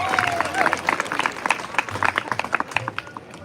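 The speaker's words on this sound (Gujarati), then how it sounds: "આપણે તાળીઓના ગડગડાટથી સાહેબને આવકારી લઈશું" An audience at a school function claps to welcome a guest, with dense, uneven clapping from a crowd that thins slightly toward the end and a faint murmur underneath.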